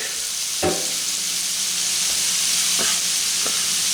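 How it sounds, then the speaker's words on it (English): Minced garlic and onions sauté in a hot pan with a steady, even sizzle, while a utensil stirs and knocks against the pan a few times. "So I'll just give this a few minutes to saute."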